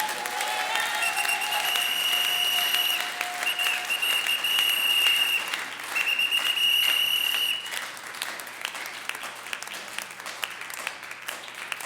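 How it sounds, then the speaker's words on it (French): A church congregation bursts into sustained applause, dense clapping from many hands holding steady for several seconds, then thinning slightly but continuing to the end. "Est-ce qu'on peut acclamer Seigneur?"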